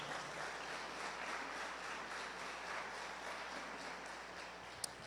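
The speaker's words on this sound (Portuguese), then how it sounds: "Dê um aplauso para ele nessa noite" Soft, distant applause from a church congregation goes on steadily throughout, a faint even patter of many hands with one sharp tap near the end.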